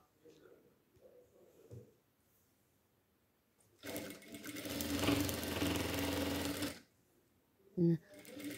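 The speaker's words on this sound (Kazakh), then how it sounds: "Замок тұсына келгенде матамызды дұрыстап қойып тігіп шығамыз." A sewing machine stitches a zipper onto a pillowcase in one steady whirring burst of about three seconds, with quiet rustling of fabric before and a brief clunk afterward.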